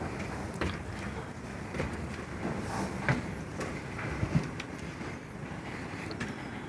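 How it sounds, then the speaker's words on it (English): Steady wind rushes and buffets outside an old mill in Nevada, a broad continuous roar with occasional gusts and faint creaks, heard from inside the building. "There's quite a bit of wind outside,"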